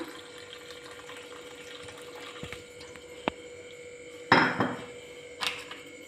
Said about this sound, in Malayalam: അരി മുങ്ങിക്കിടക്കാൻ മാത്രം വെള്ളം ഒഴിക്കണം